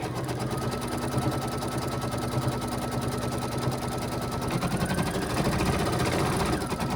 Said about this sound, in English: what it's going to do is it's going to stitch around